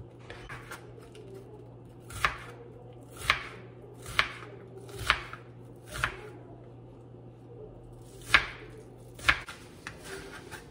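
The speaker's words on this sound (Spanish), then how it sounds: "Voy a picar la cebolla." Knife chopping onion on a cutting board, about nine distinct sharp chops spaced roughly a second apart, close and clear against a quiet kitchen hum.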